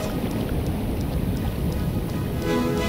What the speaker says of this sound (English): There's a storm coming in out of nowhere.